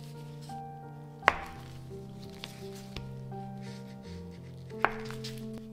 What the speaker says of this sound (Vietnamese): lấy 800g đậu hũ và cắt giống như vậy